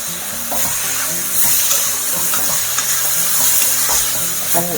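Noodle ingredients with soy sauce and a light dusting of pepper powder fry and get stirred in a pan, a loud, dense sizzle with a continuous rhythm of utensil scraping and stirring, close up and with no talking.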